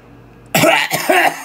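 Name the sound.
cough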